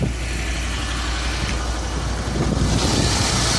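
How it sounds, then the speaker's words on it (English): A Bentley Eight car engine idles with the bonnet open, a steady, even mid-pitched running hum that stays loud and close throughout with no talking. "And now you can hear this engine just running like a Swiss clock."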